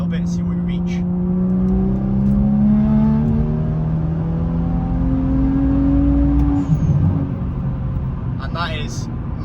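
A Stage 1 tuned BMW M235i pulls hard through third gear, its engine note climbing steadily from inside the cabin, then easing off near the end; a voice speaks over the drone toward the close.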